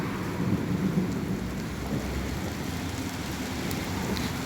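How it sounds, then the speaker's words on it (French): A thunderstorm with steady rain hisses on surfaces, while low rumbles of thunder roll faintly in the distance throughout. "je ne sais pas si vous entendez le tonnerre et l'orage"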